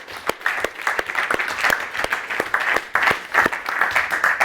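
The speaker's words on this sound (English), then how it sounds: "Can we applaud Adrian for this" Audience applause after a talk on personal freedom: a steady, fairly close round of many hands clapping with sharp individual claps standing out, continuous through the whole stretch with no talking.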